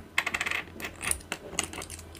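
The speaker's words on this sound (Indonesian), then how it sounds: "Di sini gue memiliki 1, 2, 3, 4 buah koin yang akan gue pindahkan satu persatu ke dalam gelas." Coins drop one at a time into a glass on a tabletop, giving several sharp metallic clinks and rattles in quick succession, close and clear with no talking.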